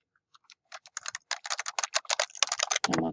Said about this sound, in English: So I'm typing in Google.